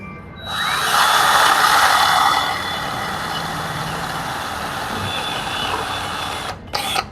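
Rust being cleaned off the brake drum of an e-bike hub motor: a loud, steady abrasive grinding-whir that surges early and then holds level, with no talking, before a brief cutoff at the end.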